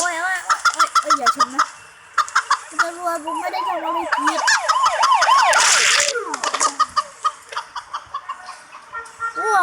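Chicken clucking from a Thai car destruction video game, repeated cackling calls mixed with siren-like wavering tones and game noise, with someone talking over it throughout.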